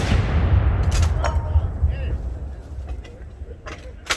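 A field artillery gun of a National Guard unit firing during a crew drill, with sharp loud blasts and a lingering rumble that fades, a few separate reports spaced across the span.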